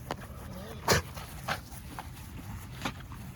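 Puppies and their mother dog, Mamacita, panting faintly with a few short whimpers and scuffles, one sharper burst near the start, quiet and close.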